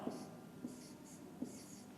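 A pen writes a number on paper with soft, close scratching strokes in a short quiet stretch, with three small taps marking the separate strokes.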